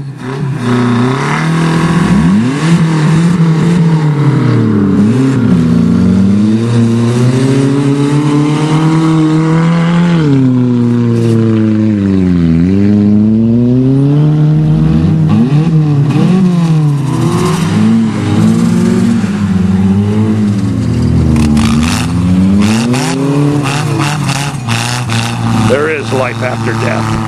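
Modified import cars, including a Talon, racing at a rural amateur race, engines revving loudly and continuously with rising and falling pitch sweeps as they accelerate, close by, with people talking over the roar.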